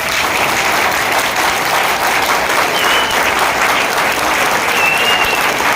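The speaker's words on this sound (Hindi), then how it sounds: "आप लोग जरा जोरदार ताली बजाए" An audience at a presentation breaks into loud, dense applause, a thick unbroken roar of clapping held at full strength from start to finish.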